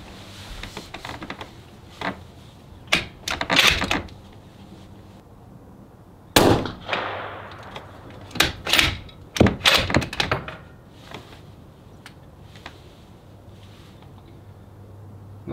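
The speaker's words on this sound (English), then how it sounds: "let's go ahead and put 5 shots down there and just see what the app does" Rifle shots fired downrange during chronograph testing ring out as sharp, fairly distant cracks with brief echoing tails, several spaced irregularly, with handling clatter between them and no talk.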